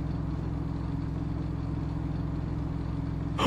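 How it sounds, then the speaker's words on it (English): An RV engine drones while driving in the horror game Fears to Fathom: Ironbark Lookout, a loud, steady low rumble with no break, alone and close. "This RV is loud."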